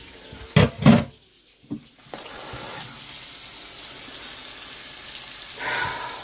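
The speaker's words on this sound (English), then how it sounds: "Put this in the sink and rinse it off." Running water in a sink rinsing a steak for country fried steak, with a few sharp knocks at the start, then a steady faucet stream at moderate level.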